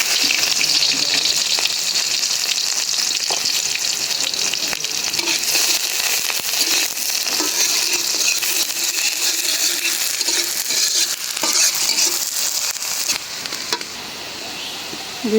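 Onion and bay leaf fry in mustard oil in a wok, giving a loud, continuous crackling sizzle with scattered sharper pops and a slight drop in intensity near the end.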